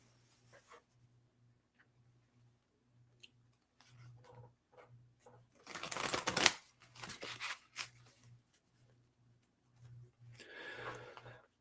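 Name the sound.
shuffling tarot cards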